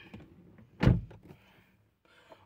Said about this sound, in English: I shut the door.